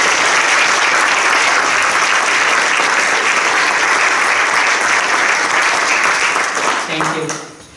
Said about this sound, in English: One more round of applause for our fantastic volunteers.